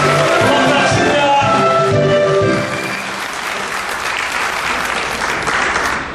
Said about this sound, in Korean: 힘찬 박수와 함성을 부탁합니다